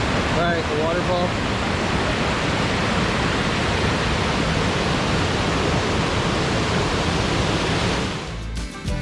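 A creek waterfall at Moccasin Creek in Georgia rushes in a dense, steady roar close by, filling the whole scene continuously until a brief rustle at the end.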